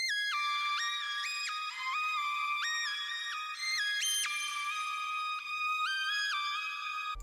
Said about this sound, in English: this next sound is one of my signature sounds now, and it's called Shepherd's Horn